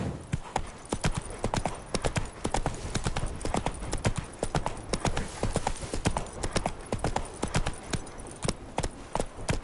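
Horse hooves gallop in a fast, even clip-clop rhythm throughout The Witcher 3 video game, loud and close, with the rider's gear jostling faintly along and no talking.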